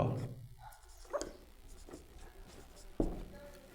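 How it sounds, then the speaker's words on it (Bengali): Chalk or marker scratching out a rule on a board during a Bengali grammar lesson on the past continuous tense, a few faint strokes and taps at close range in a quiet room with no talking. "তাহলে রুল বা সূত্রটা লিখব সূত্র"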